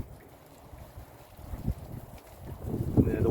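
Wind during a Texas ice storm gusts in low rumbling bursts, growing louder and rougher toward the end as it buffets the microphone.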